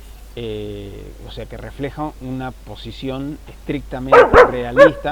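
A pet dog barks a few sharp times near the end, close by, after someone speaks in Spanish over it.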